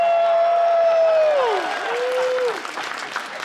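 Fans at a Magic: The Gathering Marvel reveal panel at New York Comic Con 2024 let out a long falling whoop over crowd noise, followed by a swell of steady many-handed applause that continues to the end.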